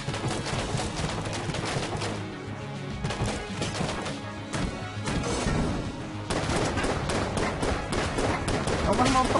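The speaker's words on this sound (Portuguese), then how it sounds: "É uma arma automática, né?" Automatic weapon fire in the bullet-hell game Enter the Gungeon, a dense continuous stream of rapid shots with layered game effects running throughout, loud and steady.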